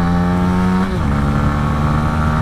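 A Honda CB125R 125cc motorcycle engine droning loud and close while riding, its steady tone dropping briefly as it shifts gear, then holding an even pitch.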